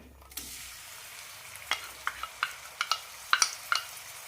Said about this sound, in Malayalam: ചിക്കൻ വറുത്ത എണ്ണയിലേക്ക് ചതച്ച മസാല ഇടാം